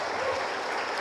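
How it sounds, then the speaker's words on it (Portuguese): Church congregation applauds in a steady, dense wash of clapping, moderately loud and continuous for about a second with no voices standing out. "Será que você pode aplaudir Jesus pela vida deles?"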